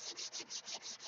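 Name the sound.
hand sanding wood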